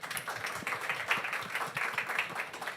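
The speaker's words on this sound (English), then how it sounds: "Everybody, big round of applause, please." Audience applause at a leadership and infrastructure decarbonisation event at London Climate Action Week 2025, a moderate crowd clapping steadily in a room for a few seconds.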